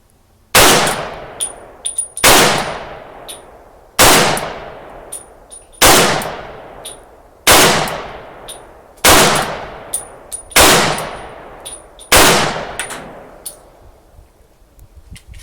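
A Polish Tokarev PW wz.33 pistol fires 7.63 Mauser rounds outdoors: eight sharp, loud shots at a steady pace about a second and a half apart, each followed by a ringing tail and faint metallic pings.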